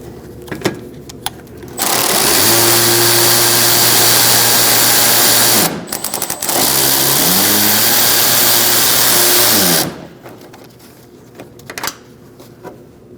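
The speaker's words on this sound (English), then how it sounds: "You're going to use a 7mm socket and remove it." A powered driver spins a 7mm socket to remove a bolt on a 2016-2019 Chevrolet Cruze during AC condenser replacement: two loud, steady whirring runs of about eight and four seconds, separated by a brief pause, with quiet clicks and handling noises before and after.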